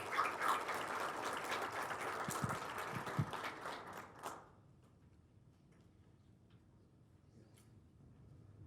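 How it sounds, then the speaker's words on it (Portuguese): Applause from an audience at a talk, dense and sustained clapping for several seconds before thinning out and fading into a quiet room. "Uma salva de palmas aos nossos dois expositores que teremos aqui"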